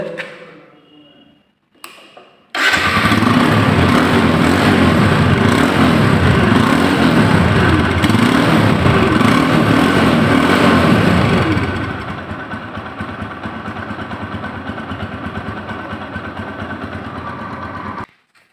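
A 2020 TVS Apache RTR motorcycle engine starts after a short pause and idles steadily and loudly, then settles into a softer, even idle for the rest.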